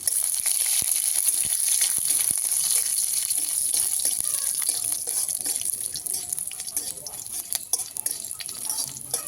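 Whole dried red chilies, panch phoron and bay leaves sputter in hot mustard oil in a wok, a dense steady sizzle with scattered crackles and pops running close throughout.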